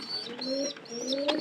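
A pigeon in a loft corner coos close by, with two soft, rounded coos in quick succession.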